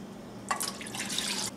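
Soy sauce poured into a measuring cup, a brief close trickling splash lasting about a second, on its own against a quiet kitchen background.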